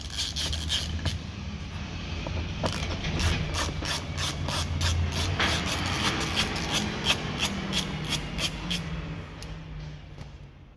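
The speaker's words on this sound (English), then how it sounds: "we're going to do these two T20 Torx screws first." A ratchet undoes T20 Torx screws on the front arch liner of a 2006-2012 Renault Clio 3, giving rapid, evenly spaced clicks close by over a low rumble of background noise.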